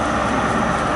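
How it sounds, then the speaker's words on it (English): A passing train on the line toward Bridgwater, heard as a steady broadband rumble and rush held at an even level throughout, fairly close and with no voices over it. "I think this might be our train we caught the other day."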